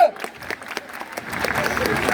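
A crowd at the Lille street fair, the Braderie de Lille, breaks into applause. Scattered claps build into steadier clapping mixed with crowd noise, and voices are heard at the start.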